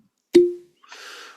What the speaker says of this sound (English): Let's give this thing a cork pop here,